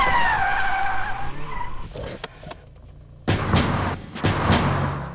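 A car brakes hard and skids, with broadband screeching bursts, a quiet gap, then two more strong skid bursts, loud and close.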